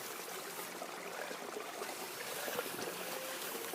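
A small creek in Hope bubbles and burbles steadily nearby, a continuous soft wash of trickling water with no voices over it.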